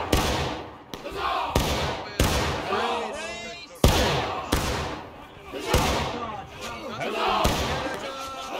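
Musket volleys crack out in a War of Rights battle, sharp irregular shots and thuds repeating through the clip amid shouting soldiers and a noisy crowd of players.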